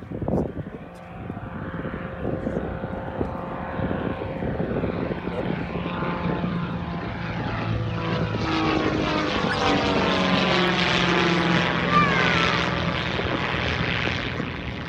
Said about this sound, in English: Now he will pull back on the control column and climb vertically.